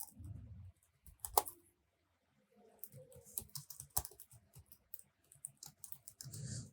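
Computer keyboard typing in several bursts of close, sharp keystrokes with brief pauses between them, irregular in rhythm, with a few louder clicks standing out and near silence in the gaps.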